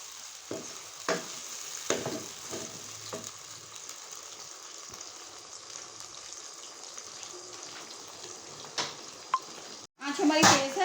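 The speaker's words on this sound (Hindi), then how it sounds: "ये 2 प्याजों का पेस्ट डालेंगे हम इसमें, और अब इसे तेज आंच पे ही हमने पकाना है" Onion paste for chicken white karahi fries on high flame, sizzling close with several sharp stirring scrapes, then a brief cut and a louder burst of spattering at the end.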